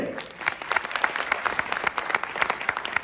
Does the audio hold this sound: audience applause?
yes